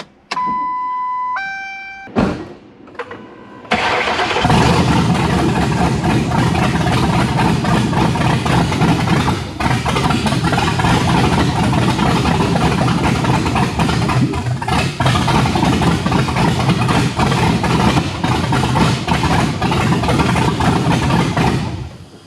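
A Ford Crown Vic with a swapped 7.3L Godzilla engine gives electronic chimes, a brief crank, then fires and settles into a loud, steady close idle that runs uninterrupted for nearly twenty seconds.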